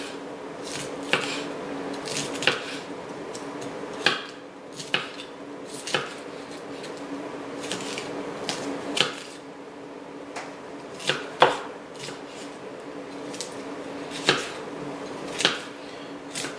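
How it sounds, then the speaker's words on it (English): A knife cuts the stem out of a head of purple cauliflower on a board, with irregular sharp chops and taps spread over a quiet background hum. "cutting out the stem portion"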